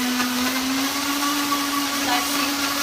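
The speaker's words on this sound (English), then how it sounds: "We're gonna blend this up." A blender runs continuously, whirring steadily as it blends a coconut, strawberry and acai smoothie, a moderately loud motor whine that persists alone for a few seconds.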